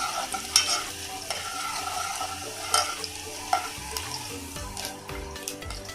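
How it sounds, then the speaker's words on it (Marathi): Onion frying in hot oil in a home kitchen, a soft continuous sizzle with occasional sharp clinks and scraping stirs of a utensil against the pan, no talking. "तेल गरम झाल्यानंतर कांदा टाकू."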